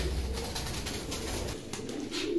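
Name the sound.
pigeons cooing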